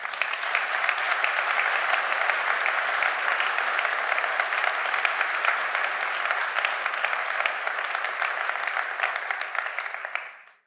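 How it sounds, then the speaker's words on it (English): A crowd at a technology opening event applauds the distinguished guests, speakers and partners, a loud, even roar of clapping that holds steady for about ten seconds and then drops away quickly at the end. "let's give a round of applause to our distinguished guests, speakers, and partners for joining us."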